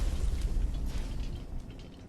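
A grenade explodes in Fallout 4 as a deep, rumbling blast that rolls on and slowly fades over about two seconds, heavy in the low end with a crackling tail.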